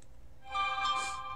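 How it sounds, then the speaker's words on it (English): A phone message notification tone sounds once, a brief bright electronic chime that is faint and stands alone. "They're blowing up my phone."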